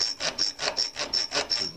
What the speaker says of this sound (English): take a file and kind of go over it a little bit